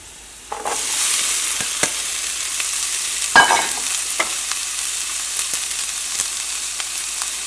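Vegetables sizzle and fry in a hot pan as ivy gourd, potato and carrot are sautéed, with a steady hiss throughout and sharp clicks and scrapes of stirring near the mic.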